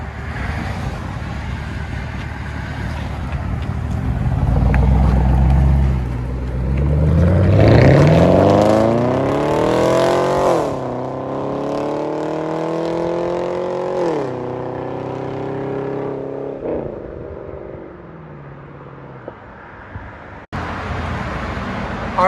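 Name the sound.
Chevy Camaro SS 6.2L LS3 V8 loud exhaust, muffler delete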